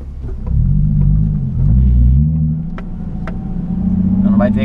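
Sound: Nissan 370Z engine revving while accelerating

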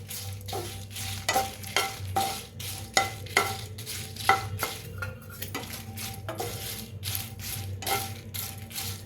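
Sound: dry-roasting broken Byadgi chillies in a pan

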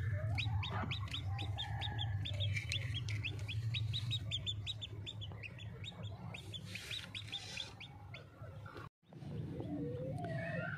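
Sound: hens clucking

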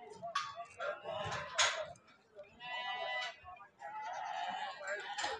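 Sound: lambs bleating at a livestock market

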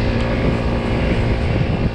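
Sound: Chinese 80cc scooter engine while riding

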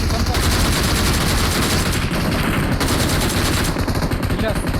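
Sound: gunfire in the video game PUBG Mobile

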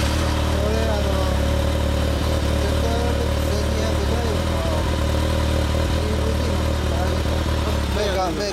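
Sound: Kawasaki ZRX1200 DAEG motorcycle engine running

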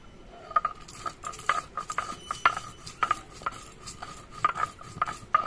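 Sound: grinding dry roasted spices

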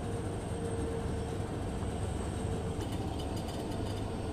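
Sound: train running, Goa Express

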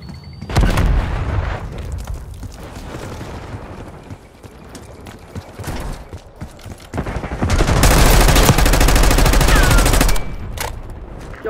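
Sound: gunfire and explosions in video game Call of Duty: Black Ops 6

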